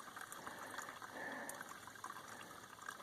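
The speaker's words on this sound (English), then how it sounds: "That's my gravity system. This is money. It fills water up so fast." Gravity water filter system filling with water on the Appalachian Trail near Appalachian Gap, a soft, quiet trickling and running of liquid, steady and close, heard alone without talk.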